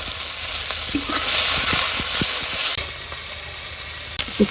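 Chopped onion, ginger, cumin and salt hit hot oil in a home kitchen pan, giving a steady close sizzle with bright crackling pops and occasional stirring clatters; the hiss fades slightly after a few seconds.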